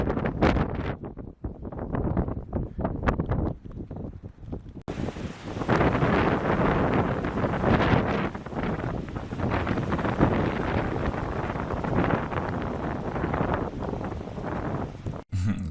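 Strong wind in freezing sleet buffets the camera microphone in loud, continuous rumbling gusts, with a voice faintly audible under the roar.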